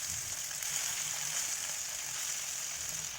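Kingfish pieces frying in a hot pan, giving a steady, even sizzle and crackle close up with no talking.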